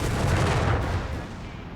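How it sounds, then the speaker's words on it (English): Artillery bombardment in the video game Company of Heroes 3, a dense, continuous rumble of blasts and gunfire at steady loudness that fades slightly at the end, with no talk. "they're bombarding American positions with reasonable precision"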